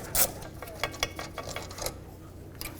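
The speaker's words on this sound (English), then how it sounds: "I'm just going to use a ratchet wrench and get those two completely out of here." A ratchet wrench backs out the rear brake caliper bolts on a 2005-2010 Pontiac G6, giving quick irregular metallic clicks and rasps at close range, fairly quiet and without speech.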